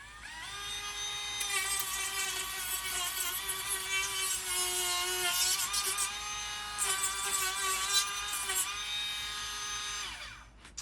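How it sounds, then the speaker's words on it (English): A Dremel rotary tool with a grinding bit grinds down the exposed laminated Nidacore edges of a catamaran bulkhead during a DIY rebuild, a steady high-pitched whine holding for about nine seconds before winding down, close and loud with no talking. "I'll use a Dremel with this bit. All you have to do is grind it down."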